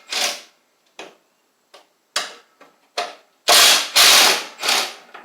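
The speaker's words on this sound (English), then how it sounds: "I'm taking the other approach and taking the 4 bolts off for the tabs here" Hand ratchet clicking in short bursts while taking bolts off the front end of a Craftsman LT1000 riding mower, a series of separate close ratcheting strokes with longer, louder runs near the end.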